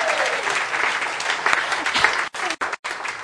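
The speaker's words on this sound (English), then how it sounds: "Go ahead, clap, because it was amazing." An audience claps and cheers in a dense, sustained burst of applause that cuts off sharply in a few abrupt gaps near the end.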